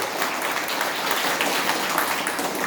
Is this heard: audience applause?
yes